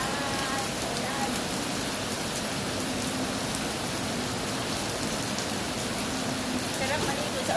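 Constant heavy rainfall outside, a thick unbroken wash of drops pattering on surfaces, with faint children's voices now and then in the background.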